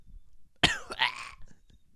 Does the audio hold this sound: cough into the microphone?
yes